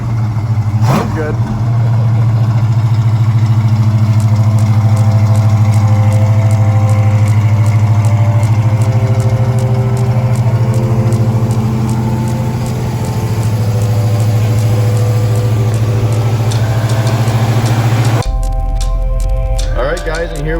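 A 1969 Ford Mustang Mach 1 project car cruising down a dirt road, its engine a steady low rumble heard from inside the cabin for most of the stretch before cutting off near the end.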